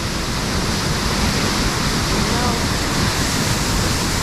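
Franklin Falls in winter pours as a steady, dense roar of falling water, loud and constant throughout with no break, its icy surroundings reached on snowshoes.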